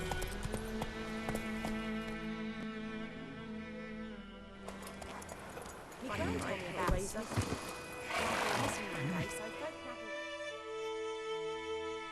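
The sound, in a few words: horse hooves and neighing in The Witcher 3 video game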